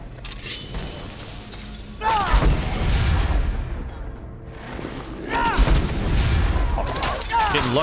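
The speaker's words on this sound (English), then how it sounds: "Lucky on the explosions here." Two heavy explosions in the video game Skyrim boom a few seconds apart, each followed by rumbling debris, with a faint voice in the background.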